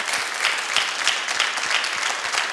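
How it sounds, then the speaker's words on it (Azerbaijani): An audience applauds an instrumental ensemble at a music concert, steady dense clapping from a crowd lasting the whole stretch without talk. "Ürəkdən alqışlar gəlsin"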